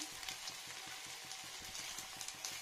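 Spinach and paneer fry in a pan with a steady soft sizzle, punctuated by regular light scraping taps as the mixture is stirred.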